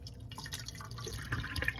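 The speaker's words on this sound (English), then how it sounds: "I'm gonna strain this water out here." Water strained off washed shrimp runs and drips into a kitchen sink, a faint, steady trickle with small splashes, no voices.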